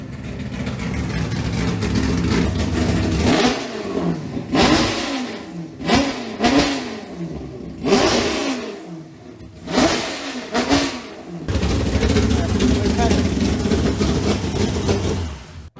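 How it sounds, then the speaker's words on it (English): A large Ford V10 4V engine fitted with headers revs hard several times, each rev climbing and falling back, with a loud rumbling idle before and after. "these headers make the engine sound even more crazy"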